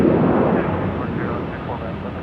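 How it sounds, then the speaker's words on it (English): Airbus A321 airliner at Salt Lake City airport, a broad steady jet roar that stays loud and level throughout, close by, with voices talking over it. "Yeah, it's an A321."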